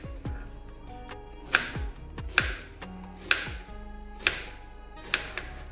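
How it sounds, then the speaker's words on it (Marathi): A knife chops raw green mango into pieces on a board, several crisp cuts landing at an uneven pace and ringing close and clear with no talk. "तर मी आता कैरी कापून घेते"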